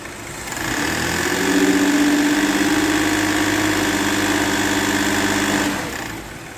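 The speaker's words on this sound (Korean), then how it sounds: "엔진 부하를 걸어서 노킹 소리가 나는지 힘이 없는지 그 부분 한번 테스트를 한번 해봐야 될 것 같습니다" A Hyundai Grandeur IG with a GDI engine, suffering cylinder head valve leakage, runs steadily under load with a loud, even drone and vibration that holds for several seconds before easing off.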